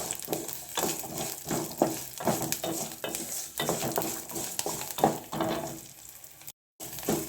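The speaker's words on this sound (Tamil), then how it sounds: "பூண்டு நல்லா வதங்கிடுச்சு." Garlic sizzles in a pan on a village stove while being stirred, with a steady low frying hiss broken by repeated scraping strokes, ending in a short silence.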